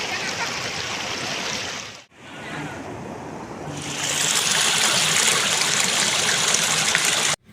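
Water streams over the Haluvagilu check dam near Hassan in a steady broadband rush, cut by a short break partway through, then resumes louder and fuller until an abrupt stop.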